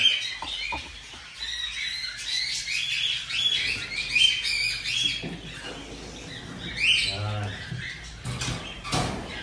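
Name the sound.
birds chirping in nesting boxes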